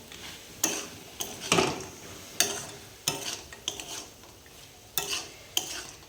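A spoon stirs methi (fenugreek) greens frying in a pan, with irregular scraping strokes over a soft, steady sizzle, close up and with no voices.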